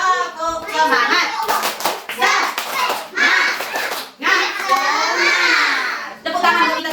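Schoolchildren in a classroom clapping together in bursts, their rhythmic claps broken up by loud chattering and shouting kids' voices.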